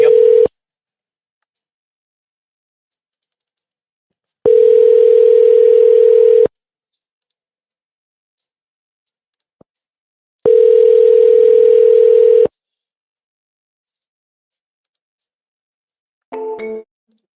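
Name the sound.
phone ringing tone on an outgoing call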